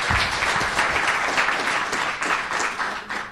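An audience applauds a design-careers round table at a Paris games event, with brisk, continuous clapping that stays full and close throughout.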